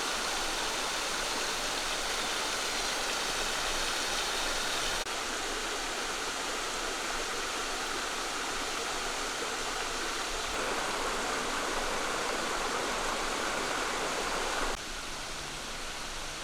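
Steady roar of Waterloo Falls on Spring Creek off Highway 136 near Cookeville, Tennessee, a broad continuous rush of falling water that stays loud and constant throughout, with a slight shift in texture partway through and no voices.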